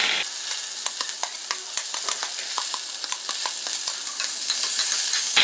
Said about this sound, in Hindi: अब इसमें डाल रही हूँ जीरा और हिंग का तड़का, ऐड कर रही हूँ थोड़े से अनियन